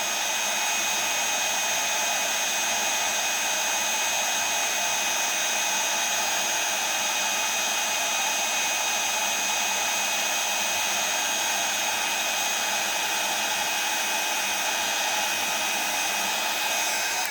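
A hair dryer or heat tool blows steadily over puffy texture paste on a mixed media card, a loud continuous whooshing roar that stays even throughout with no talk over it.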